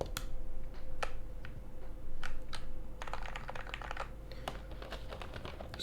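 Close, crisp keystrokes on an Ikki68 mechanical keyboard with GMK keycaps clack in irregular bursts, with denser rapid typing in the second half over faint background hum.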